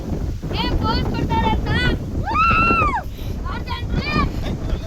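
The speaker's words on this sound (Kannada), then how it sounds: "ವಿನೋದಕ್ಕ ಗಾಳಿನೇ ಹಿಡ್ಕೊಂತ ಐತೆ." Strong wind buffets the microphone in a constant roar atop a hill temple, while voices talk over it.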